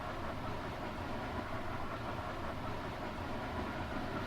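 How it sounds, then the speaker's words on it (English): A train rolls along its rails with a steady, dense rumble and faint rhythmic clatter, heard from on board as a continuous moderate drone with no voices. "The train continued its journey, carrying me away from the enigmatic town and its spectral melodies."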